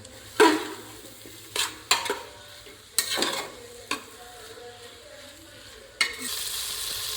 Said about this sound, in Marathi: आता चांगल्या प्रकारे हलवून घेऊया